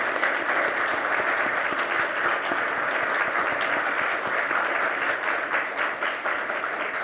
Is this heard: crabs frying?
no